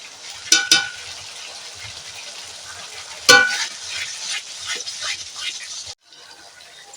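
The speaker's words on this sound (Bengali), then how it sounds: "কম জাল দিলে পারে মশলাটা ঠিক ভালোভাবে ভাজা যাবে" Spice paste for chicken kosha frying in oil over a low flame, a soft continuous sizzle broken by a few sharp scrapes and clanks of stirring, ending abruptly.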